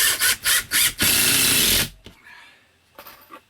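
Self-tapping screws driven into an OSB wall by a power driver, several short close bursts followed by one longer continuous whir, then quiet with faint clicks.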